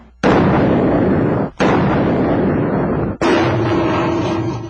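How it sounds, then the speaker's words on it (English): Three huge bomb blasts from a simulated office explosion test, each a sudden loud roaring burst that fills the air for over a second before cutting off, with no voices. "It's simulating what can happen to someone if a bomb were to go off near an office."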